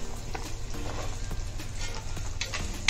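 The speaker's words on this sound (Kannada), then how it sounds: "ಬೆಳ್ಳುಳ್ಳಿ, ಈರುಳ್ಳಿಯನ್ನು ಚೆನ್ನಾಗಿ ಫ್ರೈ ಮಾಡ್ಕೋಬೇಕು." Garlic and onion fry in a pan for a garlic gravy, giving a steady, close sizzle that crackles evenly throughout with no talking.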